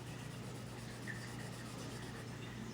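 A Prismacolor colored pencil is rubbed in layers over blue on paper, giving a soft, continuous scratchy rasp that is faint and close with no talking.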